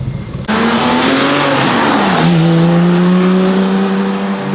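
A loud GT3 sports car roars past at a car-spotting event during motor week in Newport, its engine note rising and then dropping in pitch, with a clear Doppler shift as it goes by, sustained and close with no talk.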